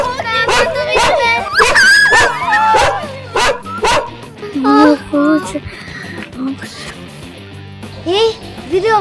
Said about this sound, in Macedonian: Умна куче, умна.